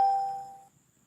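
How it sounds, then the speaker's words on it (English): A single bright live-stream notification chime rings out with a clear bell-like tone, then fades smoothly into silence within well under a second. "I just got the notification"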